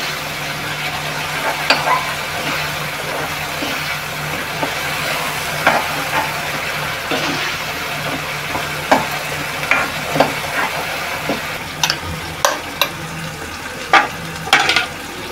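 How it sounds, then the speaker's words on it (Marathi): Paste of ginger, green chilli, garlic and coriander frying in oil, a steady close sizzle running throughout with scattered sharp crackles and spatter pops growing busier toward the end, no talk. "हे आता तेलात परतून घेऊया म्हणजे कच्चेपणा जाईल त्याचा भाजला की"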